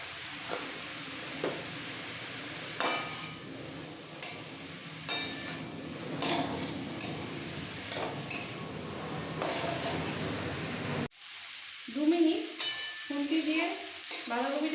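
Shredded cabbage with a little salt and turmeric fries in a pan with a steady sizzle, broken by repeated sharp scrapes and knocks from a stirring spoon, before the sound cuts to quieter clinking.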